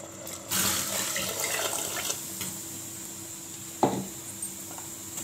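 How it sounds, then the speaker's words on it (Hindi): Water splashes from a glass into a cooking pot holding chopped potatoes and black chickpeas, a brief pouring burst near the start followed by a short clink, with no talking. "और इसमें एक गिलास डालूंगी मैं पानी।"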